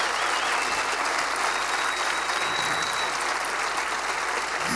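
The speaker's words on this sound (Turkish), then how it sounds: "Onun için bir alkış rica ediyorum sizden." A concert audience in Moscow's MIR concert hall applauds in tribute to a musician during a performance, producing dense, steady, full-hall clapping that holds at an even level throughout.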